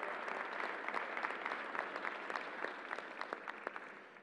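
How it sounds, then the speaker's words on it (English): A crowd at an event in a convention center claps steadily, a dense, even wash of applause heard from a distance that fades slightly at the end. "Let's give a round of applause to the team who made this work."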